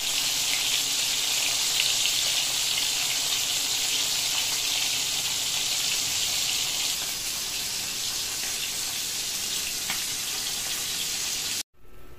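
Salmon fries in a pan, a steady bright sizzle held close and fairly loud for most of the stretch, easing slightly toward the end before cutting off abruptly.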